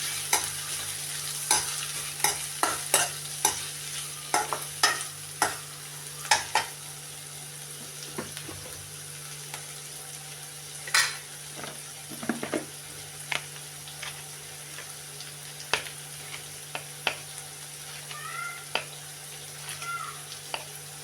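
Onions and green chillies sauté in a pan for cabbage mezhukkupuratti, with soft steady sizzling under repeated sharp scrapes and clinks of a spoon stirring against the pan.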